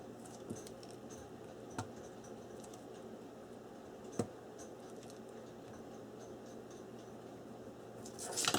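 Quiet, close snips of scissors cutting paper, a few distinct cuts spread over several seconds, followed by a brief rustle of paper.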